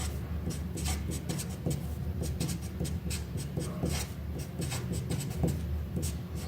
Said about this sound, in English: So let me write 2A.